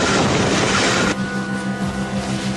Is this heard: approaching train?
yes